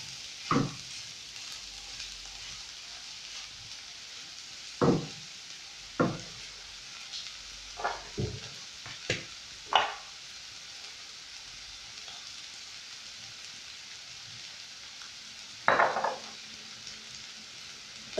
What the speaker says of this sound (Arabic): دابا غير غادي نخلطو مزيان